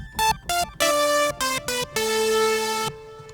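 Soft synth chords from the Lead Huge preset in the Visionary synth play in a short choppy rhythm, a few brief stabs then one longer sustained chord that fades out, clear and alone.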